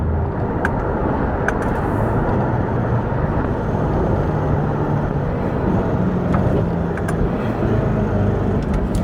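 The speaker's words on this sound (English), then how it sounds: "It almost sounds like a 4-cylinder every time I downshift." A base-model Chevrolet C8 Corvette with a dual-clutch automatic drives along, its engine and road noise making a loud, steady, unbroken roar heard from inside the car, with no voices.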